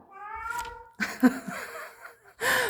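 A cat meows and caterwauls close by in a room, a drawn-out wavering cry followed by several shorter, louder, insistent yowls.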